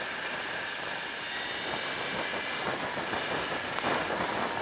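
A Sur Ron Light Bee electric dirt bike fitted with a KO factory motor and controller, ridden fast in cold weather, gives a steady high whine with rushing wind noise, loud and continuous throughout.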